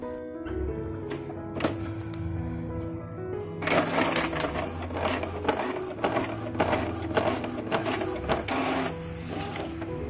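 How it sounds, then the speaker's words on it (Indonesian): A printer prints an A5 service receipt, its motor whirring and paper feeding in a series of mechanical clatters and buzzing passes after a quieter start, close and loud, with no voices. "Oke, kalau sudah tinggal diklik print."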